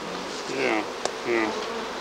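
Honey bees buzz steadily around an opened hive that has a steel bottom and a welded steel frame with a wooden insert. The drone holds close and continuous, and a few individual bees swell louder as they pass near.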